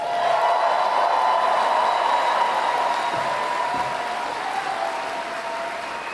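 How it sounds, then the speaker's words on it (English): A Comic Con crowd applauds Rob McElhenney at the Mythic Quest panel, a dense, sustained wash of clapping and cheering that fills the hall and slowly eases off. "Rob, did I wait long enough for the applause to swell?"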